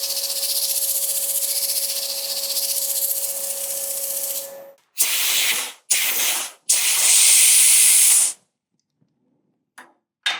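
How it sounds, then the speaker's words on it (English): Sandpaper held against the spinning underside of a wooden bowl on a lathe, giving a steady broadband hiss over a faint motor hum for several seconds, then shorter bursts of sanding broken by pauses, with no talking. "You don't want the sandpaper to bounce around,"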